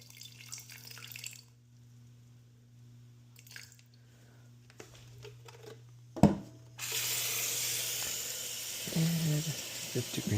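Water is poured into a sourdough starter in a kitchen, a hissing running-water sound that begins after a clunk and carries on steadily to the end, with a faint hum and light handling noises before it.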